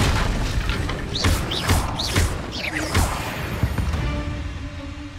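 Magic spells cast in the Hogwarts Legacy video game, including Revelio, come as a run of whooshing, booming spell effects with swept pitch trails and thuds, fairly loud and continuous.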